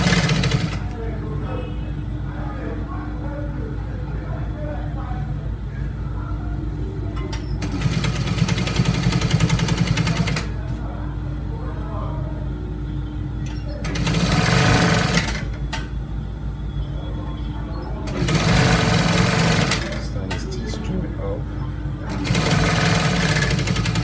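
A sewing machine stitches along a trouser edge in several bursts, with a steady low hum running throughout and louder stretches of rapid stitching spaced a few seconds apart, close by and with no one speaking.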